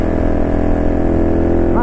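Honda Cross Cub 110 (JA45) engine fitted with a Wirus Win power filter inside the stock air box, a loud steady close-up drone that rises in pitch at the very end.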